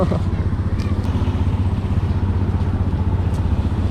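A motorcycle runs with a steady, low, pulsing engine rumble and a throbbing idle or slow ride, close and continuous, with light clatter over it.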